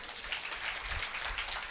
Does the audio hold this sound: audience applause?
yes